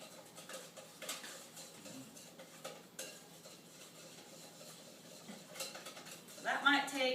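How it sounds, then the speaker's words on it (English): Coconut cream pie filling is whisked in a pot, with faint, irregular metallic clicks and scrapes of the whisk against the pan, building into a louder, quicker rattle at the end. "you whisk it until it gets thick"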